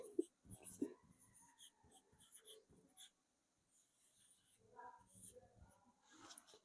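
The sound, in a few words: writing a definition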